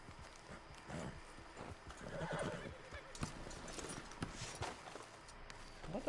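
Horse hooves clip-clop along with a neigh from a horse in the Red Dead Redemption 2 video game, moderately close under a busy game soundscape, quiet overall.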